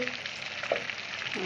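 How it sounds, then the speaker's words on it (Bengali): Pangas fish frying in oil in a wok, a soft steady sizzle with faint bubbling and a brief stir or scrape partway through, fairly quiet and without talk. "মাছগুলো ভাজা হয়ে গেছে, এখন মাছগুলো উঠে নিই এক এক করে।"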